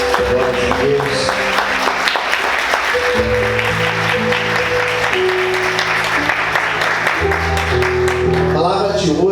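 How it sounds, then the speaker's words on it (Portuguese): A church congregation applauds loudly and continuously, dense clapping heard up close alongside sustained keyboard or organ chords and some voices underneath. "Aplauda Jesus bem forte."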